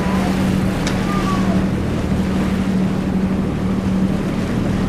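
A cruise boat on the River Thames in London runs with a steady low engine drone under broadband wind and water wash, continuous and close for the whole stretch.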